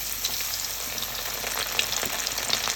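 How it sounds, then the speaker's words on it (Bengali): Cauliflower popcorn pieces frying in hot oil, a dense steady sizzle with fine crackling pops running throughout, close and moderately loud, no voices. "পপকর্নগুলো কি সুন্দর করে ভেজে নিচ্ছে ফুলকপি।"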